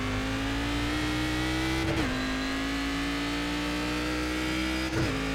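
Cadillac CTS-VR race car engine in iRacing at Summit Point Raceway, droning loud and steady at high revs, with two brief dips around gear shifts; no talking.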